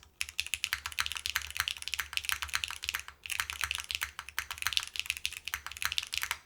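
Rapid, steady keystrokes on an Etar87 mechanical keyboard, with close, crisp clacks and a slight resonant ring from some keys. The typing runs continuously except for a brief pause partway through.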